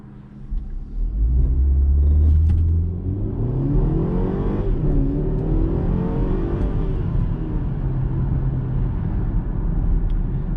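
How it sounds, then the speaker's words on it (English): A 2021 BMW X1 SUV launches hard from a brake boost, its engine surging into a loud, sustained roar with a deep rumble that holds steady as it pulls away. "let's go ahead and brake boost this SUV and see how it does"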